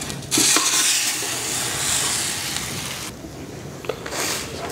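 An egg-coated paratha fries in a pan with a close, steady sizzle. A few brief scraping and pressing bursts break in as it is pushed down, and the level dips slightly toward the end.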